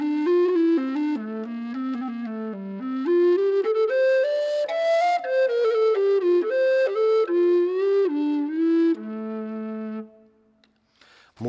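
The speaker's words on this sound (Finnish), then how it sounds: "tämä on tämmöinen F-basso eli pikkubasso, niin usein me ammattilaiset kutsutaan sitä myös basettinokkahuiluksi" An F basset recorder, also called a bass recorder, played with its cap fitted: a breathy, hollow melody of connected mid-low notes, clear and close, running for about ten seconds before fading out into silence.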